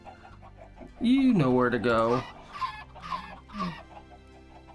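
Minecraft chickens cluck in a short burst of clucks and squawks, close and loud, with a voice speaking over the end.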